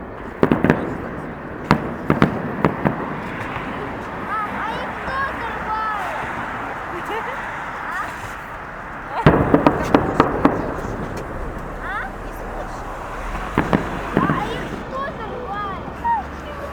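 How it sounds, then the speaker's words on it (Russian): Fireworks salute in Kaliningrad marking the Soviet Army and Navy holiday: scattered sharp bangs and crackling bursts, clustered heavily near the start, middle and end, over crowd chatter and wind. "Давно салютов не было."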